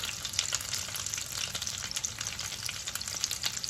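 Venison burger patties frying in hot oil in a pan, a continuous crackling sizzle with frequent snapping pops, close and steady with no voices.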